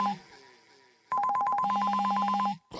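A phone rings with an incoming call: a loud electronic ringtone of rapid repeating beeps starts after a brief faint lead-in, holds steady for about a second and a half, then cuts off.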